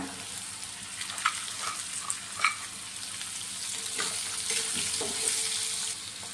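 Chopped onion sizzles in hot oil in a home kitchen pan for poha, a soft steady frying hiss with a few sharper crackles and stirring clinks.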